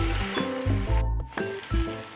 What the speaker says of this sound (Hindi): इसको फ्राई करते हुए तकरीबन 3 से 4 मिनट हो गए मुझे, लेकिन अभी भी इसके अंदर लेस बाकी है, तो हम इसे मज़ीद फ्राई करेंगे।